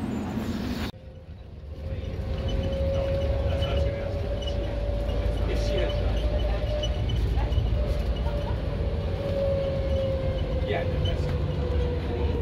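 An airport tram in Las Vegas hums along steadily with a low rumble and a faint whining tone, after a brief chime at the start; faint voices in the background.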